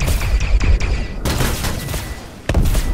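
Missile fire and an explosion in the space game Star Citizen, from a Super Hornet turret: loud rumbling blasts with a heavy burst early on and a sharp new boom near the end.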